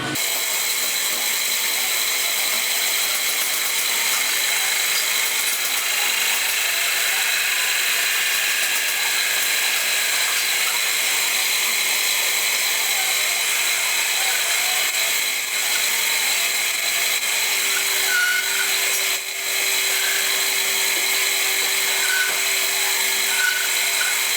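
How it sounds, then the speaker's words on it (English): A steady, continuous mechanical whine with a grinding, ratcheting texture runs unbroken throughout as a drill bores a hole in mild steel at close range. "I've cut the piece of mild steel out and I'm drilling this hole here"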